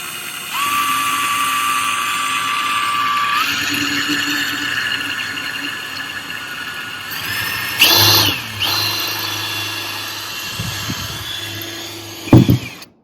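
A power drill whines steadily at a high pitch while drilling a hole for a spare tire carrier ladder on a Mercedes Sprinter van, shifting tone partway through, then surges and bogs down briefly before a few short bursts near the end.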